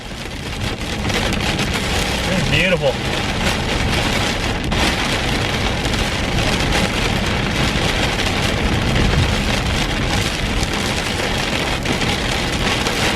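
Heavy rain pounds steadily on a car driving a freeway, I-57 North in Illinois, a dense continuous roar throughout with a brief spoken comment near the start.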